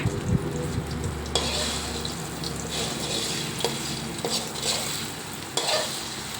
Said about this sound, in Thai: แล้วก็เทไข่ ลงไปทอดนะคะ